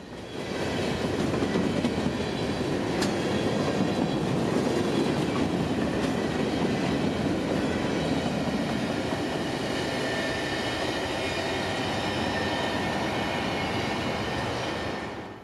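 Freight train on the line near Schenectady, New York, rolling past close by in a long, steady roar with faint rhythmic wheel clatter and metallic squeal, holding constant before easing off at the end.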